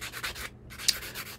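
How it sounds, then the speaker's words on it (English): Close, rhythmic scratchy rasping of a file or emery board rubbing across fingernails, several quick back-and-forth strokes with a brief pause midway. "I'm just sanding my nails"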